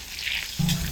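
Potato-stuffed paratha sizzles and crackles in hot oil as it puffs up, a steady close frying hiss that grows fuller partway through, with no talking.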